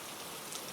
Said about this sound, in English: The sound of the rain became louder, closer, filling the silence around me.